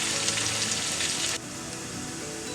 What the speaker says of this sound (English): Let the onions fry nicely till it gets brown.